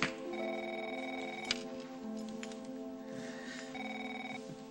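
A telephone rings indoors with repeated electronic bell tones in two bursts, fairly quiet and alone, with no voices.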